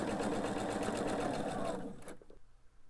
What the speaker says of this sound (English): sew the length of this seam